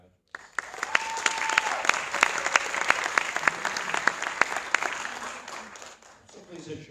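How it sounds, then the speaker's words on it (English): A crowd at the 2018 Public Allies San Antonio graduation ceremony gives graduates a steady round of applause lasting several seconds, full and close, with a few voices mixed in before it fades. "Let's give another round of applause to our Public Ally graduates."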